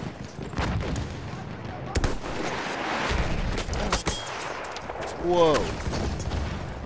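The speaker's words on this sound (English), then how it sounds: "Grenades going in." Rapid gunfire and explosions from a shooter video game crackle and thud over a continuous battle din. A player briefly exclaims near the end.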